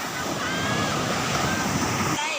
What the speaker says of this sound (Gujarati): દરિયા ફૂલ જોરમાં છે.